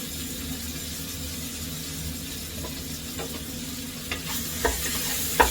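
Onions frying with green chillies and salt in a pan for chicken curry, a steady close sizzle broken by scraping stirs that grow sharper toward the end, with no talking.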